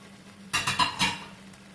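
Mushrooms and broccoli stirred in a cooking pan for Thai red curry macaroni: three quick, close scraping clinks of a utensil against the pan over a faint low background.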